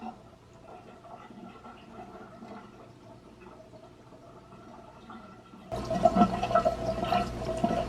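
Water drains from a Manitowoc ice maker, a quiet steady trickle that swells into a louder gushing rush near the end.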